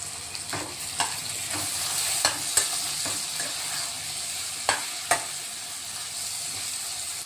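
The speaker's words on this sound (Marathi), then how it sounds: "थोडी फोडणीमध्ये आपण कोथिंबीर टाकतोय, अर्धी नंतर वापरणार आहेत आपण." Coriander leaves drop into a sizzling Maharashtrian breakfast tempering and are stirred, a steady close frying hiss broken by sharp spoon scrapes and clacks against the pan.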